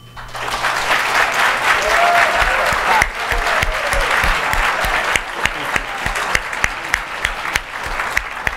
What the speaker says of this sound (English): could you please hold your applause until all candidates have answered